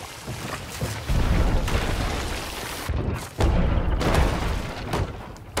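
Ship cannons firing in the pirate video game Sea of Thieves, heavy booming blasts that surge twice and hang in a dense rumbling roar, loud and close, with no talk over them.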